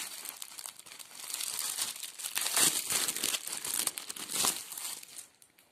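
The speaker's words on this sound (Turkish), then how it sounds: "Şimdi yazmamızı açıyoruz." Plastic packaging around a newly bought lilac headscarf crinkles and rustles up close as it is opened, irregular crackling bursts swelling and fading for several seconds.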